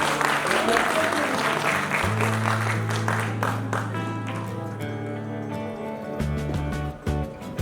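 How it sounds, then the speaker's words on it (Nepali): Loud, dense applause from an audience at the National Entertainment Awards 2021 ceremony fills the stretch, carrying on steadily under music that comes in partway through. "एकचोटि उहाँलाई जोरदार ताली बजाएर सम्मान गर्नुहोस्।"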